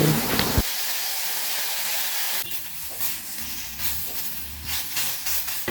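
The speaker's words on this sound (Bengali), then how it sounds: "কড়াইয়ে দিয়ে দিলাম থেতো করে রাখা চালতার টুকরোগুলো" Crushed elephant apple pieces frying in a wok with salt and turmeric, a steady close hiss and sizzle that runs throughout, with faint scraping and stirring knocks in the second half.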